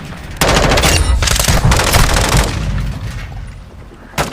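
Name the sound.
gun firing in full auto in Call of Duty MW2 video game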